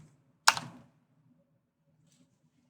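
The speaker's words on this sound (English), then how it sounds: "I'm just going to type in" A single sharp keystroke on a computer keyboard, a brief close click followed by a short fade, with quiet room tone and a faint tap near the end.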